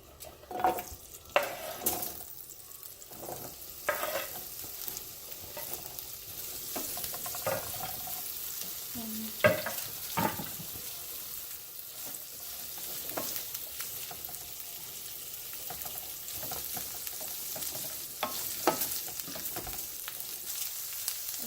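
Green peppers fry in hot oil for an Indian paneer capsicum curry, a steady low sizzle running throughout with repeated stirring scrapes and light clinks of the pan nearby.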